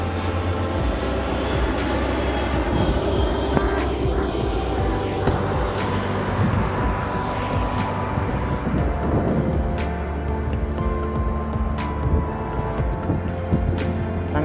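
An airplane flies overhead near a home, giving a sustained, moderately loud engine drone with steady low hum that persists throughout.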